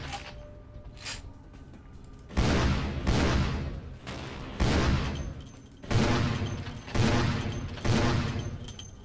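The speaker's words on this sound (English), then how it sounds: "Oh, hey, buddy. Stop shooting me." Repeated bursts of gunfire in Vampire: The Masquerade – Bloodlines, six heavy volleys spaced about every second and a half, loud and booming with decaying tails.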